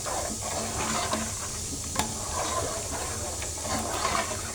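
A thick milk pitha mixture is stirred in a pot on the stove, a steady scraping and bubbling hiss running without pause, with a few faint clinks of the spoon against the pot.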